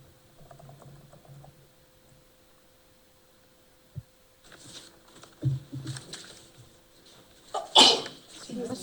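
Sharp sneeze near the end in a committee meeting room, loud and sudden amid quiet background murmur and faint talk.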